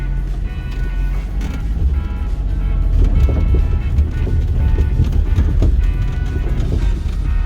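A Daihatsu Cuore on air suspension rolls along with a low engine rumble while its stiff suspension creaks and knocks irregularly over the bumps, close up.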